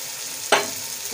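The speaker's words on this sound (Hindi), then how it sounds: "अच्छी तरह से भुनाई कर लें। अभी दाल हमारी भुनने वाली है" Chana dal roasting in a pan for chana dal pulao, with one sharp stir-scrape burst midway over a low, steady background hiss.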